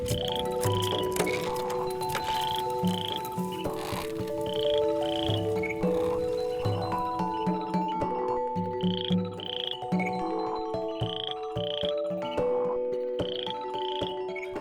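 Frogs croak in Indonesian rice paddies, a dense, continuous chorus of overlapping calls at close range with repeating rhythmic pulses and steady loudness throughout, no voices present.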